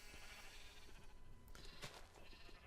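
Sheep bleating in Minecraft during a survival session with many sheep gathered for breeding: overlapping low game bleats over a steady background, with one brighter bleat standing out near the end.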